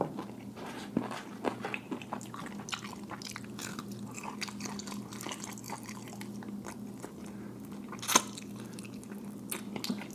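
Close, crunchy chewing of crispy KFC fried chicken, with soft irregular bites and mouth sounds over a low steady hum.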